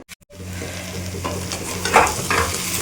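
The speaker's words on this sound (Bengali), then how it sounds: "এখন ভালো করে নাড়াচাড়া করে চাপা দিয়ে রাখি" Rohu fish curry being stirred in a pan while it thickens, a steady low sizzle with soft scraping strokes near the end, close and moderately loud.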